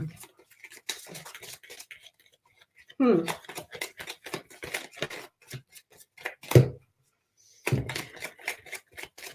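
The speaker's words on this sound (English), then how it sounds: "Y'all seeing me shuffle these cards, right?" Crisp, rapid riffling of playing cards being shuffled in quick bursts, close by, with people talking over and between the shuffles.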